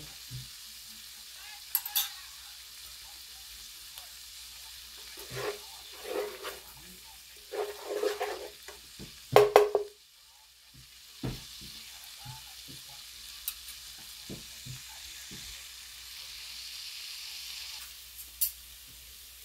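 Coconut milk cooks down until browned in a pan for a garlic margarine and tilapia dish, with quiet sporadic bursts of sizzling and stirring separated by near-silent gaps.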